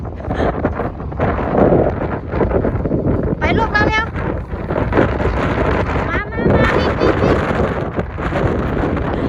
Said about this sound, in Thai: ลมมาอย่างแรงเลย